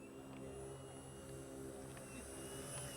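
A remote-control Harrier model airplane hovers, its engine or propeller droning as a steady, unbroken whine that holds at a fairly even level throughout.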